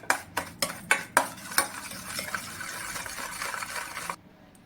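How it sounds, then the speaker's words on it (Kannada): Dhokla batter mixed in a bowl, several sharp spoon taps against the rim at the start followed by a softer wet stirring swish that stops abruptly, close and unaccompanied by speech. "ಇವಾಗ ಚೆನ್ನಾಗಿ ಮಿಕ್ಸ್ ಮಾಡ್ತಾ ಇದ್ದೀನಿ."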